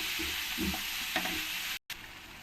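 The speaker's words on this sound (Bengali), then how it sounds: "জল দিয়ে ভালো করে আমি মশলাটাকে কষিয়ে নেব" Spice paste sautéing with water in a pan for jackfruit kalia, a continuous close hiss and sizzle with a few soft stirring knocks, cut off by a brief moment of silence near the end.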